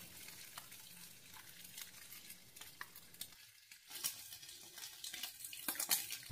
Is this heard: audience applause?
no